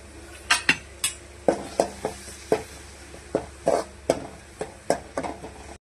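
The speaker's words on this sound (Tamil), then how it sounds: "வெங்காயம் நல்லா வதக்கிக்கலாங்க." Small onions with pepper, cumin and ground paste sautéing in a pan for Tamil fish curry, heard as a steady run of sharp utensil scrapes and clinks against the pot at an irregular rhythm, close and clear, over a faint sizzle with no talk.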